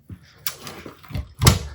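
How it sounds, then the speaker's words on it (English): A garage door in a house under renovation is pulled shut, with scraping and rattling movement ending in a firm thump, close and moderately loud, under faint background voices. "So we're just gonna close this door"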